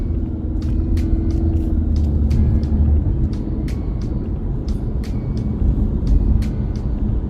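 A big bus drives close by on a Georgia road, heard as a loud, steady engine rumble and road noise with faint squeaks and ticks above it, heard from inside a passing car.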